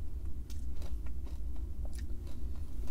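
Someone bites into and chews a chocolate McDonald's McFlurry with M&M's up close, with crisp crunches at an uneven pace over a low background hum.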